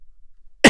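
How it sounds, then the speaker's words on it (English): A single sharp cough from a man with an injured rib bursts out at the very end after near silence, short and fairly loud. "So coughing is like dying."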